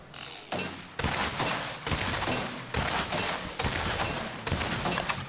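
Gunpowder weapon firing in Don't Starve, rapid bursts of shots repeating in steady clusters, loud and close, with no talk over them.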